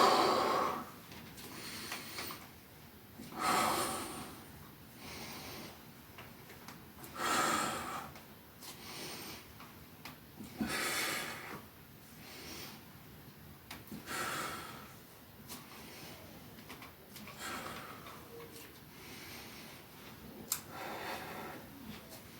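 Heavy, rhythmic breathing during a bullworker bicep exercise: strong exhalations and inhalations repeat about every three to four seconds, close and clear, with faint ticking between breaths and no speech.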